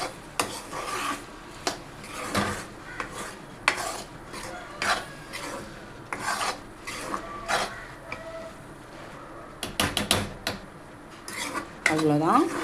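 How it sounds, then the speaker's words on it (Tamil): Tomato gravy with white peas being stirred in a pan, giving irregular scraping and clinking strokes of a spoon against metal, moderately close, with quiet pauses between bursts and no talking. "இப்படி நல்லா மிக்ஸ் பண்ணி விட்டுட்டு ஒரு போல் எல்லாமே ஒன்றா மிக்ஸ் ஆகிடணும்"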